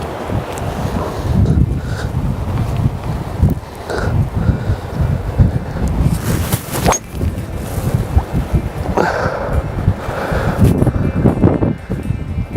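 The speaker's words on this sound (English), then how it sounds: "playing directly into the prevailing wind" Strong prevailing wind sweeps across the first hole at the Trump International golf course in Scotland, battering the microphone with a loud, continuous roar and repeated gusts throughout.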